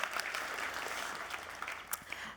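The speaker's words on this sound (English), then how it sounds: "A little surprising round of applause." Audience applause at a conference keynote, a brief round of scattered clapping heard at moderate distance with a few sharper claps standing out near the end.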